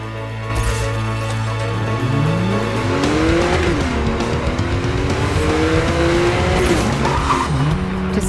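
Race car in Need for Speed: Most Wanted, a loud revving engine climbing through gears with squealing, skidding tires as it drives toward the race start.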